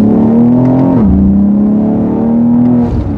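A BMW X4 M Competition performance SUV accelerates hard, its engine roaring loud and close from inside the cabin. The pitch climbs steadily, dips briefly at a gear shift, then climbs again, and no one talks.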